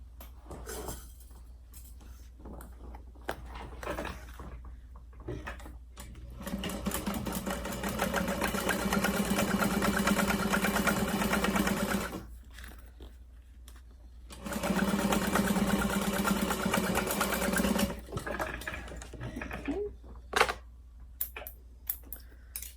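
A home, non-industrial sewing machine whirs through two long stitching runs on fabric, each several seconds of steady rapid hum, separated by quiet pauses with light handling clicks.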